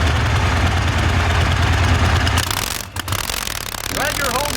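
A sidecar racing engine at Bonneville drones steadily at high revs, then briefly dips and cuts out before picking back up, with a faint chirping sound near the end.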